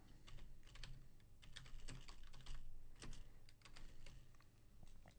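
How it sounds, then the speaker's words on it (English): Typing title text on a computer keyboard, with steady bursts of close key clicks running throughout. "I'll type in my title."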